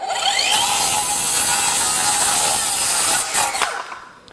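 A Kobalt XTR cordless circular saw rips through a 2x10 of pressure-treated lumber, a loud, steady high whine that holds for about three seconds, then dips and winds down as the blade clears the cut.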